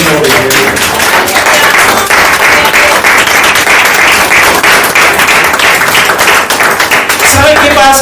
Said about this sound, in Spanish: Denle ese aplauso al Rey de Gloria.